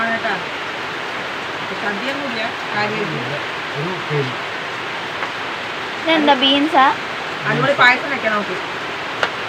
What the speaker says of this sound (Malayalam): നല്ല മഴ നല്ല മഴയാണ്